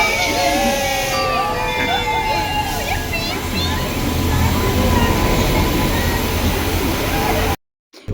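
Passenger train at a busy station, a steady rumble and clatter filling the scene with squeals and announcements above, while people talk throughout; the sound cuts out abruptly near the end.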